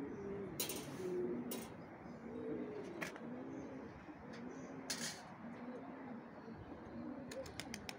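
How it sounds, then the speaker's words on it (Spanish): Pigeons cooing at a pigeon loft, with soft, repeated low coos under steady outdoor noise and a few sharp clicks and knocks scattered through. "El Tajo Blanco está ahora allí con una paloma en la roca."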